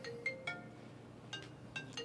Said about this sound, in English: Man, she dancing to a ringtone.